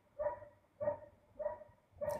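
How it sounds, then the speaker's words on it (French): Dogs barking in short repeated bursts from close by, four evenly spaced barks over about two seconds, with no talk. "c'est pas que ça me dérange l'aboiement des chiens"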